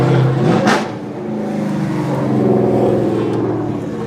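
A Nissan 370Z drift car engine revs loudly and close, with a sharp blip early on, then a steady droning pull that holds and rises slightly through the rest of the clip.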